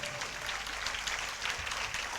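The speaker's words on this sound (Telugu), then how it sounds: "అందరు చప్పట్లతో గణపరుస్తారా?" A church congregation claps together through a Sunday service, a steady wash of applause that is moderately loud and close, with voices mixed in throughout.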